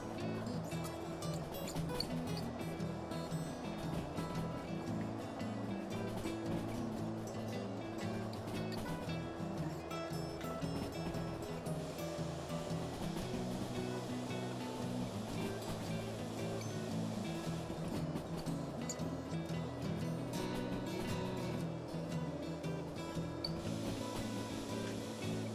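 A steam locomotive (an 844) in the Derail Valley train game takes on water, a loud, unbroken rushing gush with a steady mechanical drone beneath it, constant from start to end.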